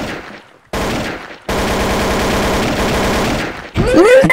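Rapid automatic gunfire in Garry's Mod bursts out in dense, loud rattling volleys, broken by short silences, with a brief electronic sound effect at the end.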